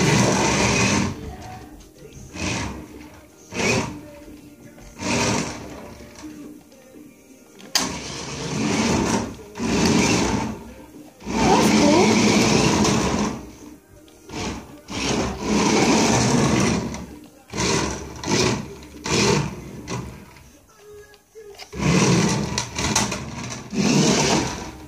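Small RC car's electric motor whirring in bursts, revving up and dropping off repeatedly with short pauses between runs, fairly close and without talk.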